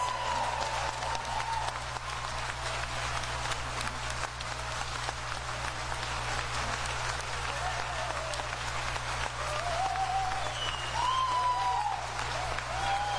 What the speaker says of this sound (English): all right, one last round of applause for our volunteers.